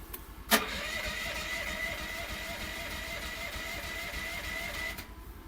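A small engine on a Chinese-made machine turning over and catching in cold, snowy conditions, with a sharp click at the start, then a steady, fairly loud mechanical whir and hum for about four seconds before it stops abruptly.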